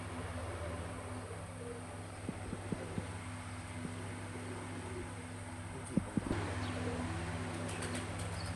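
Soft cooing of Teddy pigeons on a rooftop sounds through a steady mechanical hum, with a few faint clicks and a brief knock near the end.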